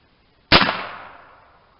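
A single sharp crack from a .50 caliber PCP air rifle, loud and close, with a reverberant tail fading over about a second and no other sound.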